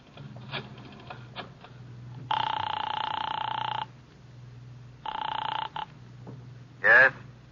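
A telephone rings in short electric bursts, two long rings and a clipped third, in an old detective noir radio drama, with a brief beep near the end.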